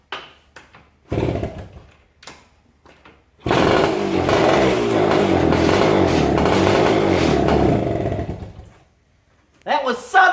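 A Yamaha two-stroke enduro motorcycle being kickstarted on premix fuel with a sticking kickstart and spark trouble: a few short kick thumps, then a loud sputtering engine catches and runs rough for several seconds before dying, with brief noises after.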